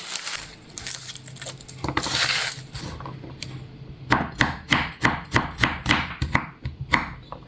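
A knife chops garlic on a cutting board for a pancit stir-fry, first in a few scattered taps, then in a quick, steady run of close, crisp strikes.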